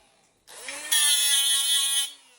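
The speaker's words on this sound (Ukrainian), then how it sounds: "Беремо болгарку, дивимося." An angle grinder spins up and cuts into metal in a single close, loud burst of about a second and a half, a high shrill whine that stops abruptly.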